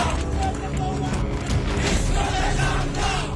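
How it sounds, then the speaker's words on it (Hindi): A crowd of radicals armed with sticks surging through the streets of Chittagong, a loud continuous roar of voices with heavy thuds and clatter, dense and close throughout. "वहां कट्टरपंथी लोगों की भीड़ सड़कों पर लाठी डंडों के साथ निकली"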